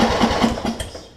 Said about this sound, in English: But it is turning the engine